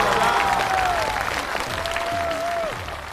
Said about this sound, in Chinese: 掌声再次给我们大齐